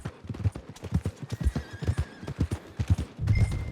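A horse in Red Dead Redemption 2 gives steady close clip-clop hoofbeats, then a loud whinny near the end. No one talks.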